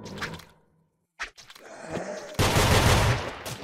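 A creature fires rapid bursts at the player in an odd indie shooter game, close and loud, with a dense burst of gunfire in the second half after quieter scattered shots.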